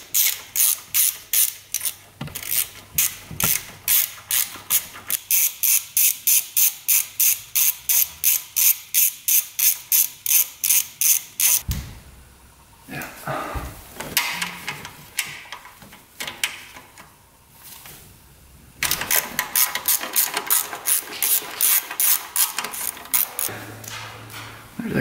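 Hand ratchet removing 10 mm bolts on a snowmobile: long runs of rapid, close clicking strokes in steady rhythm, a pause with lighter clatter and handling noise, then another fast clicking run.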